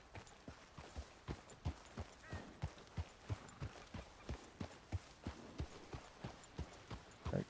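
Horse hooves clip-clop at a steady walking pace in Red Dead Redemption 2, a clear, evenly spaced run of hoofbeats about twice a second, fairly close and alone without talk.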